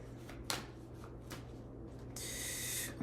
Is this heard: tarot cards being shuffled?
yes